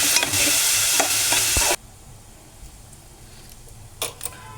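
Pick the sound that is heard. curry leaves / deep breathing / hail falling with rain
curry leaves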